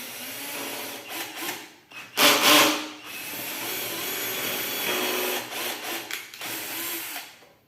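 A power drill bores a hole in a workpiece for an adapted road-cycling part, whining steadily with a loud surge as the bit bites, then tapering through short stops and restarts, close by.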